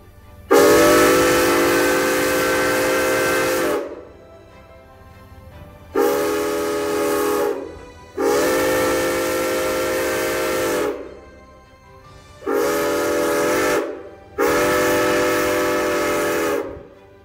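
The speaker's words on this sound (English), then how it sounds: "the rebuilt whistle sounded for the first time." The rebuilt six-chime whistle of AT&SF steam locomotive 2926, on 300 psi steam, blows in five long blasts separated by short pauses, loud, rich and harmonic, with no voices.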